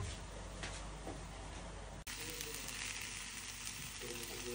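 Grated vegetable bhaji, made with black gram lentil fritters, frying in a pan, giving a faint, steady sizzle with a brief cut partway through and no voices.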